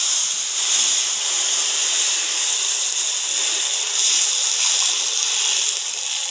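Water poured into a hot kadai while cooking doi rui fish hisses and steams as one loud, continuous, bright rush that holds for several seconds with no talking.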